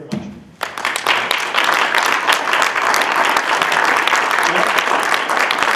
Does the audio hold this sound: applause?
yes